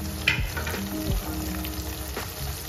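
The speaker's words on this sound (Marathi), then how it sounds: "कांदा आणि लसूण एकसाथ आपला फ्राय होऊन जाईल" Chopped onion and garlic fry in hot oil in a pan with a steady, close sizzle, broken by a couple of soft knocks of a spatula.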